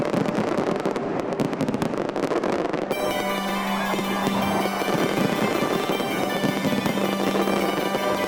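Fireworks at the USS John Warner submarine christening ceremony: a rapid crackling barrage of bursts, then a sustained ringing shimmer with a low steady tone underneath, loud and continuous throughout.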